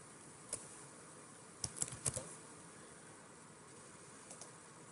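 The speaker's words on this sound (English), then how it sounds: "typing in a new search string" A computer keyboard gives a few faint, scattered keystrokes, with a small cluster of taps in the middle against quiet room hiss.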